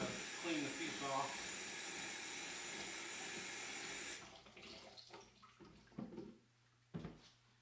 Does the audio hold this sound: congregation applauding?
no